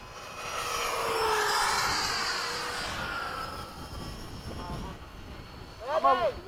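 RC model jets, an FMS Avanti and a Habu 32, flying in formation at a field, their turbine whine swelling as they pass and fading away, with people talking nearby.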